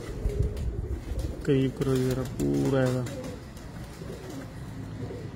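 A breeder's pigeons coo in their loft, with clear, repeated rolling coos close by in the middle, while someone talks over them at the start and end.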